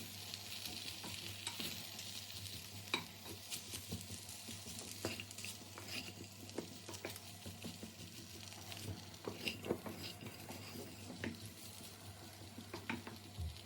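Potatoes coated in masala, salt and turmeric sizzle gently in a pan over medium heat, with soft scraping stirs and scattered pattering crackles throughout, fairly quiet and close, no voices.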